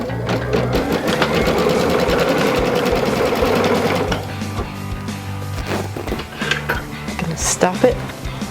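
Embroidery machine stitching a quilt, a rapid mechanical needle chatter running steadily for about four seconds and then stopping, followed by lighter clicks and handling noises, close up.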